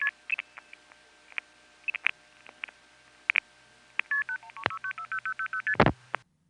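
Audible MF outpulsing from a crossbar tandem on a wire telephone trunk: clicks and short bursts, then a rapid string of crisp two-tone multifrequency beeps in a quick rhythm, ending with a loud burst, clear and alone.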